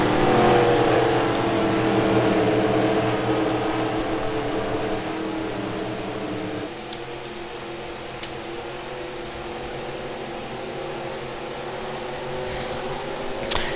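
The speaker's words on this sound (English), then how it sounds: "So that leaves 5 cars now on the racetrack." Race cars from an FTR WOPS broadcast at Michigan circle the racetrack with a spread-out field, giving a steady, fairly loud engine drone with layered harmonic tones that shift midway, without talk.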